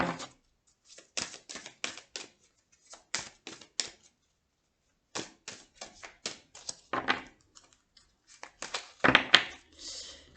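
Tarot cards being cut and shuffled by hand, a run of quick crisp riffles and taps in short bursts with pauses, close and fairly quiet, with no talking.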